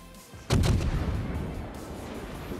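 Heavy naval guns fire in a naval warship video game, a loud booming salvo that erupts suddenly after a quiet start and rolls on with a long rumbling decay.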